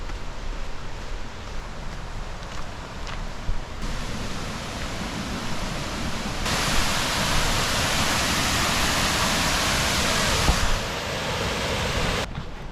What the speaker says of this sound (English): I'm hearing water. It's a good sign considering it's Gooseberry Falls.